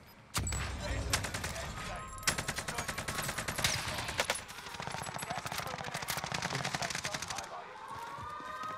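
Rapid automatic gunfire rattles through a Call of Duty Rebirth Island match involving an Owen gun, loud sustained bursts with brief gaps, while players talk over the shooting.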